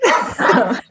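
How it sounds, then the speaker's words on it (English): Dogs barking indoors, a couple of loud, close yips and barks in quick succession. "sorry about my dogs"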